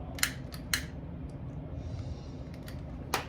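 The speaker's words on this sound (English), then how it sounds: "What I do is, if there's a knot in the yarn that I buy, I cut the knot out" Scissors snip a knot out of chenille yarn in a few quiet, sharp clicks and crisp cuts, spaced apart over a faint background hum.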